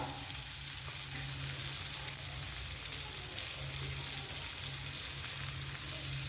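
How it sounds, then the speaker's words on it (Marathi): Potatoes sautéing in an oil-filled pan give a steady, close sizzle and crackle that holds evenly throughout, with a faint low hum underneath and no speech. "छान परतून द्यायचे बटाटा"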